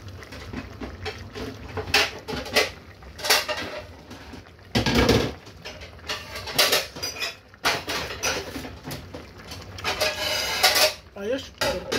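Mushrooms tipped into a cooking pan for ginataang mushrooms: clattering metal, scraping utensils and irregular knocks, close and fairly loud, with brief talk around them.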